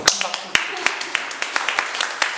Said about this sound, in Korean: 선생님 큰 박수